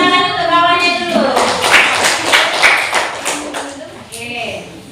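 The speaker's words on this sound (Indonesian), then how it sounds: "Tepuk tangan untuk kawannya dulu." Classroom of primary school pupils giving a short burst of applause for classmates, brisk clapping filling the room alongside a teacher's voice and children's chatter.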